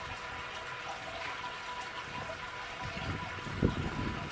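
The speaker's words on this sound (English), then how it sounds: "I can hear how fast it's draining." Wort drains quickly from a Brewzilla all-in-one brewing system during the sparge, with rice hulls in the grain bed, giving a steady rushing trickle of liquid that runs throughout, with a brief knock near the end.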